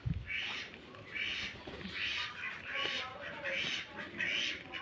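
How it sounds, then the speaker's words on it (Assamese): A group of domestic ducks quacks in a repeating series of five or six nasal calls, fairly close and moderately loud, with faint background noise between the calls. "টেক লগাইছে হাঁহ কেইজনী মোৰ"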